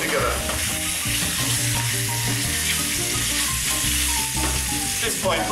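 Pork rib stew ingredients stirred together in a pot over a steady background sizzle, with dense scraping and clattering of the spoon against the pot throughout; loud and close, no talking.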